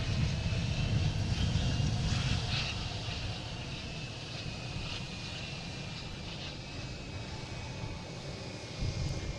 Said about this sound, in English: We have Lufthansa A340.